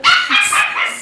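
Dog barking indoors near the master bedroom, a short burst of sharp, loud, close barks lasting about a second.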